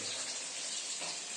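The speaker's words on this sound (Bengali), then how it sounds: "নিজেই মাছ ভাজতে শুরু করে দিয়েছে" Fish sizzles in hot oil in a pan, a steady bright hiss of frying, faint and continuous with no voices.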